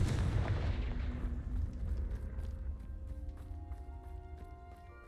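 A Confringo fire spell bursts in the wizarding video game Hogwarts Legacy with a heavy booming explosion, its low rumble decaying over several seconds while faint ringing tones linger.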